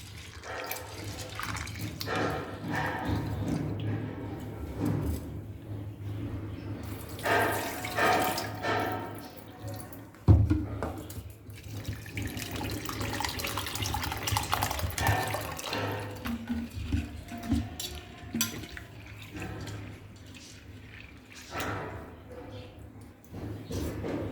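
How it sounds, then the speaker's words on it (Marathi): Chana dal being rinsed under a running tap, a steady stream of water splashing and trickling for the whole stretch, with a sharp knock partway through. "आता ही डाळ मी स्वच्छ धुवून घेतली आहे"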